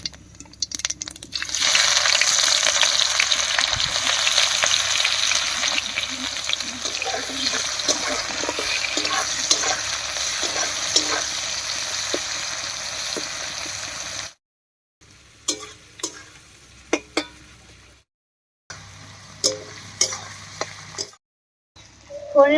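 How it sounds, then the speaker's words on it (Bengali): Chopped onion tossed into hot oil with a dried chili and whole cumin tempering, a loud steady sizzle with stirring for about fourteen seconds, then quieter scraping and clinks with brief silent gaps. "ফোড়নের মধ্যে পেঁয়াজটা দিয়ে একটু নাড়িয়ে নিয়েছি"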